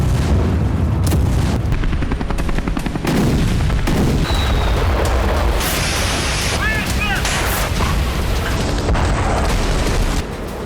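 Wartime explosions and gunfire from the Russia-Ukraine conflict rumble as heavy booms and crackling bursts across a noisy, dense soundscape, loud and continuous with a brief high whistling sound midway.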